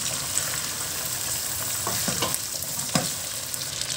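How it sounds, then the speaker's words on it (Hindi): Chicken pieces dropped into a frying onion-spice paste for chicken tikka masala gravy, giving a steady close sizzle with a few stirring scrapes and clatters, no voices. "इसमें हम अब चिकन ऐड कर देंगे।"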